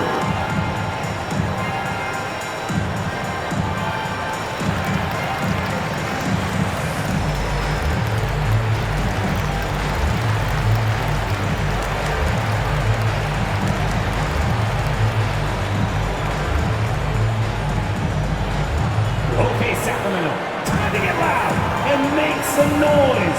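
Continuous crowd cheering and roar in a virtual NBA 2K23 basketball arena during a Kings game, a loud sustained din with rhythmic low crowd chanting, under commentator talk.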